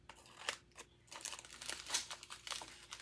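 Packets of diamond painting drills are cut apart with scissors, giving a quiet run of crinkling plastic and short snips, close and soft, with no talking.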